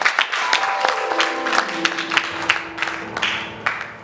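A church congregation claps and acclaims the Lord, sharp irregular handclaps over a sustained organ-like tone and voices, lively and near.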